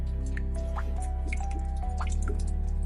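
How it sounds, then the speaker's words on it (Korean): Water drips fall one at a time in a slow, irregular rhythm, each a small distinct plink over a low steady hum, close and clear with no voices. "뚝뚝 물방울 소리가"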